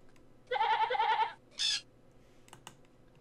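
A cartoon sheep in the Jumpstart First Grade video game, set in a zoo, gives one wavering bleat, followed by a short higher-pitched burst and a few faint clicks in otherwise quiet surroundings.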